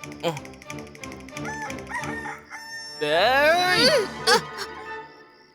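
A rooster crows at night, a long rising and falling call standing out after a stretch of harmonic voices and clucking-like sounds, fairly close and loud.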